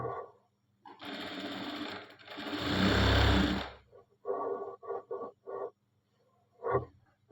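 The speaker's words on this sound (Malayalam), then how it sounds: "ഇവിടെ താഴെ നിന്ന് മുകളിലേക്കാണ് ഞങ്ങൾ സ്റ്റിച്ച് ചെയ്യുന്നത്" A sewing machine stitching cloth in a cutting and stitching class, whirring in several runs, one long steady burst followed by short stop-start bursts, close and clear.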